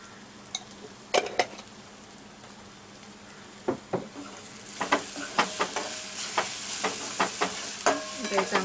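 Red chili masala stirred and frying in a pan for egg curry, a steady sizzle broken by scattered spoon scrapes and clinks that grow busier toward the end, moderately loud and close with no talk.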